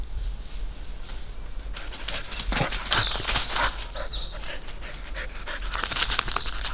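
A dog pants quickly and steadily while playing during a van trip through Yucatán, Mexico, close and fairly quiet, with a few small whimpers and faint birdsong in the background.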